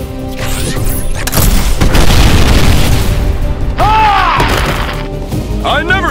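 A smart bomb explosion in an animated superhero battle: a loud, rumbling boom with crashing debris swells over several seconds, layered with whooshing effects and battle noise. A voice briefly shouts alongside it.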